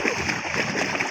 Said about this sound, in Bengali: জনি সাঁতার কাটছে।